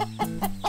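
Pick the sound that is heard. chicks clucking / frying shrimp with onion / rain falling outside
chicks clucking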